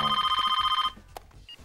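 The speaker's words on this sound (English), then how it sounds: "until one faithful phone call." Telephone bell ringing in an animated TV show scene, a steady rapid electronic trill that runs loud and alone for under a second, then cuts off into quiet room noise with a small knock.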